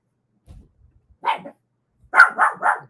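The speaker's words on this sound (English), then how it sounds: "There goes my pup." A dog indoors gives one short bark, then after a pause a quick burst of three louder barks, close to the microphone in an otherwise quiet room.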